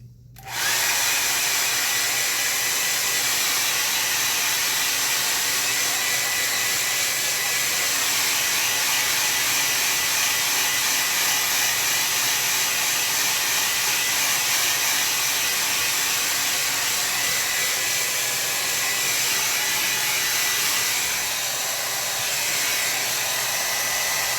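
A hair dryer blowing on a damp watercolor landscape painting, a loud steady whooshing drone that starts abruptly and runs close and unbroken throughout.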